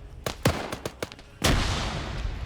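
A frag grenade detonates in a military shooter game, a sharp near blast that hangs in a rumbling tail, after a few quick sharp gunshot-like cracks.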